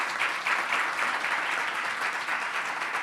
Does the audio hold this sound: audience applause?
yes